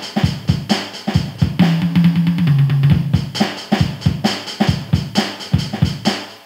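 Standard drum kit preset on an AeroBand PocketDrum II Plus, a pocket electronic drum set, playing a steady groove of kick and snare hits with cymbals, plus a sustained tonal tone in the middle, loud and close with no talking.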